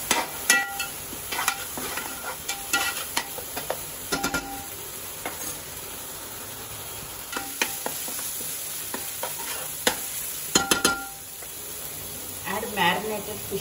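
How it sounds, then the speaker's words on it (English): Ginger garlic paste fries in hot oil for a village-style fish curry, a bright continuous sizzle broken by repeated scraping stirs and clatters of a spoon against the pan, close and fairly loud. "ginger garlic paste. Fry for 5 minutes."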